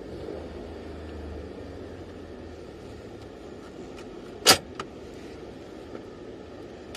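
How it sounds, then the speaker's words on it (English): Dodge Ram pickup with a 6-speed manual transmission pulling out of a school parking lot, a steady low engine and road rumble throughout with one sharp clunk midway. "A pedal point of view driving stick in my truck, leaving the school parking lot."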